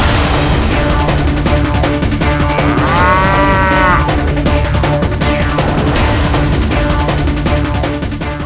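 Buffalo mooing, a single drawn-out low call rising over a dense, loud, continuous background of music and noise, heard in the middle of the stretch.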